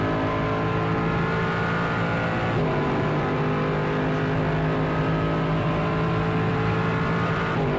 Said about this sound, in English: let's have a listen to the engine note in the Merc